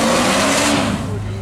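Datsun race car with a modified 5 litre V8 at a speed trial, a loud roaring engine note under people talking, fading slightly toward the end.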